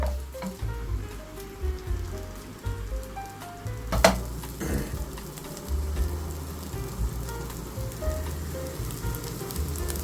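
Meat frying in hot oil in a pan gives a soft, steady crackling sizzle with a low background hum, one sharp clatter partway through.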